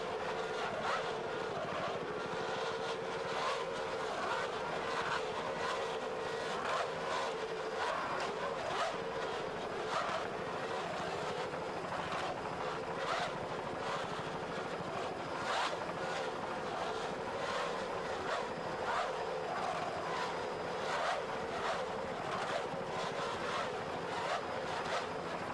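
A 32-foot Skater racing powerboat, Auto Palace Performance P13, runs offshore at Key West with a steady, dense roar of engines and rushing water, wind buffeting throughout, loud and continuous.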